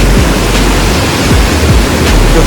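A flooded river rushes past, loud and close, as a dense, continuous roar of churning water that stays unbroken throughout, with no voices.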